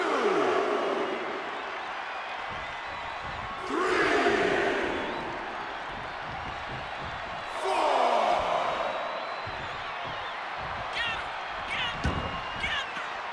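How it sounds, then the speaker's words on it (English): An arena crowd in the WWE 2K24 wrestling game, Sting vs Brock Lesnar, swells in loud cheering roars that rise and fall in waves, with sharp slam-like impacts near the end. "The sound of this crowd is deafening"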